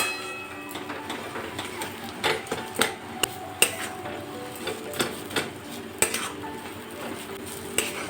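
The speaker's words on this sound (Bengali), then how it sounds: "এখন আলুটা খুব ভালোভাবে মিশিয়ে নেব।" Spoon stirring and pressing mashed boiled potato with spices in a pan, with repeated scraping and sharp metallic taps against the pan in an uneven rhythm, close up with no talk.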